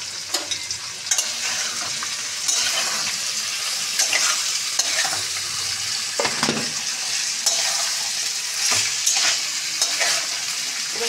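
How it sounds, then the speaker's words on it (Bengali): Salted mixed vegetables fry in a pan on a home stove, giving a loud, continuous crackling sizzle broken by frequent scraping stirs. "এবার সবজিগুলো সব ভাজা হোক"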